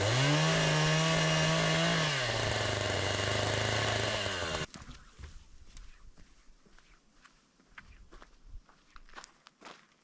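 A chainsaw runs loud and close, its engine rising and dropping as it cuts 10-foot wooden posts, then cuts off abruptly, leaving footsteps and small knocks in a quiet outdoor space.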